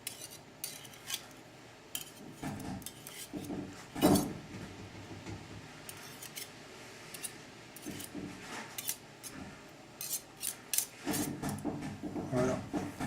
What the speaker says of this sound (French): à l'aide de la cuillère, on va prendre la crème